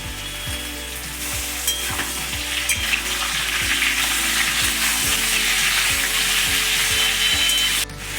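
Potato and papaya pieces fry lightly in a pan with chopped tomatoes just added, giving a loud, steady sizzle punctuated by regular low knocks of stirring roughly every half second, with no voices.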